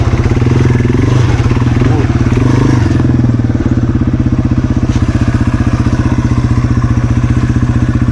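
A dirt bike's rear wheel spins out in mud, with the engine revving hard in a steady, rapid, loud pulsing drone and some clatter over several seconds.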